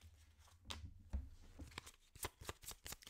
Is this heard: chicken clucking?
no